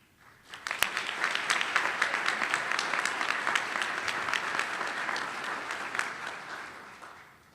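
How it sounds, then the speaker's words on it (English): Sustained applause from an audience at a Teacher of the Year award ceremony, rising quickly, holding steady for several seconds, then tapering off. "please join me in giving yet another round of applause to the finalists"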